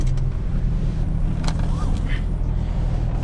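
A 2001 Plymouth Prowler Roadster's engine idles steadily up close, a low continuous rumble with a brief higher whine partway through and no talking.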